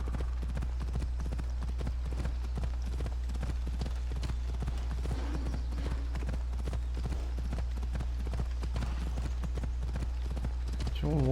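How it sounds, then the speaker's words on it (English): A horse in Assassin's Creed Odyssey gallops in a fast, steady run of hoofbeats, rhythmic clip-clop thuds continuing the whole time, with a brief whinny and someone talking quietly in the background. "cavalo muito maluco esse"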